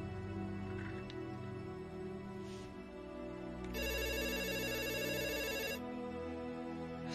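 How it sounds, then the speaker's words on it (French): Landline telephone ringing on an island in a horror film, a steady electronic ring pattern rising clearly over a low musical drone, loud and close with no talk. "C'est un téléphone qui sonne?"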